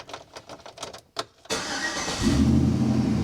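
A Chevrolet Silverado with a BCM fault cranks briefly after a few clicks, then its engine catches and settles into a steady, loud idle up close.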